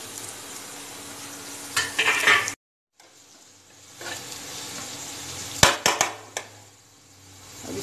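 Onions frying and being stirred in a pan while making gobi manchurian at home: a steady sizzle with scraping stirs and sharp clinks of a utensil against the pan, broken by a brief silence partway through.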